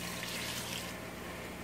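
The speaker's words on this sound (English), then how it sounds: "I'm going to add a couple more cups of water" A steady stream of water pours and splashes into a soup pot, a continuous gentle hiss and gurgle with no talking.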